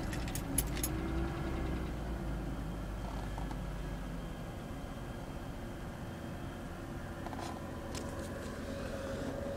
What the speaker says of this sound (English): this is my Mercedes Benz 260 1989 cold start